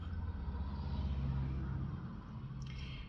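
Steady low traffic rumble from cars passing by along a road, a continuous wash of engine and tyre noise with no clear gaps and a faint high click near the end.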